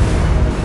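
A loud, dense explosive rumble of a shell hitting a ship in World of Warships Blitz fills the moment, a heavy sustained blast with a deep low-end roar and no voices.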